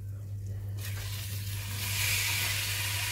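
Veal pieces dropped into melted butter in a pan, a sudden burst of sizzling that swells and stays loud and hissing, over a low steady hum.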